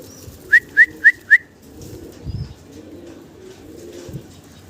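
Pigeons on a farm give four quick, evenly spaced whistled calls close by, followed by softer, low murmuring sounds. No talking is heard.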